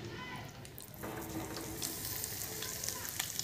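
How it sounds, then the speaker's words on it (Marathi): Bangda mackerel coated in semolina fries in hot oil, a steady close-up sizzle and crackle that swells after the first second and holds constant with small pops. "मी रवा लावून हा तळणार आहे"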